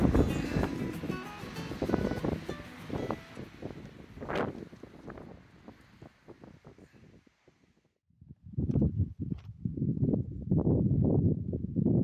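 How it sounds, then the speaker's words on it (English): Gusty wind buffets the microphone at a desert camp in Utah at sundown, roaring in uneven bursts, dropping briefly to near quiet, then gusting loudly again. "Now if this wind would just stop,"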